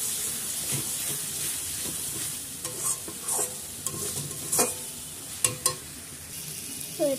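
A spiced masala is stir-fried in a pan until the oil separates, giving a continuous sizzle broken by several scraping stirs of a spatula, close and fairly loud.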